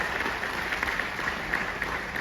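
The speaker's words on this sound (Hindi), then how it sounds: "तो एक बार डेल्टा एक्सचेंज एंड फिनग्रेड के लिए जोरदार तालियां" An audience at an event gives a brief burst of applause, with many hands clapping in a continuous, moderately distant patter and no voices over it.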